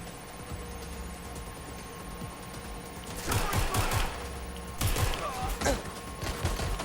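Bursts of rapid gunfire in the Watch Dogs Legion game, coming in two loud clusters of sharp cracks over a steady background hum and game ambience.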